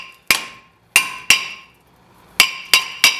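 Six sharp metallic hammer taps ring out on a Honda CR-V CV shaft from the 2002-2006 years, struck singly and in a quick closing triple with short ringing decays and silence between blows, close and clear.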